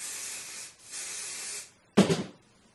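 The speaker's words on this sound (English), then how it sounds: "So I'm just gonna go in with the spray now" Two long hissing sprays of hair spray onto a wig, each just under a second, followed by a short clattering knock; close and fairly loud.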